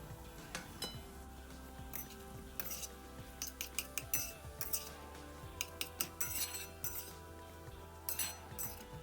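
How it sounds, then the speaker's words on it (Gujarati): A spoon clinks and scrapes against a pan as boiled potato mash is mixed with spices for a Mumbai-style vada pav filling, giving irregular metallic taps and stirring scrapes at a moderate, close level. "મસાલો અને બટેટાનો માવાને બરાબર મિક્સ કરીને સરખો શેકી લેવો."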